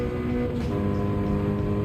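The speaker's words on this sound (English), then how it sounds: "The engine sound does kick a little bit, just a tiny bit, but a little bit quicker by lifting rather than holding the throttle down" A GR86 or BRZ racing in Gran Turismo 7 at Trial Mountain, its engine holding a steady, even drone at moderate level with a brief dip partway through.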